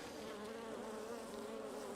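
Honeybees buzz steadily from an opened hive on a Portuguese farm, a dense, continuous drone close by with no break over two seconds.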